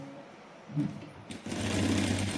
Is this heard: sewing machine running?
yes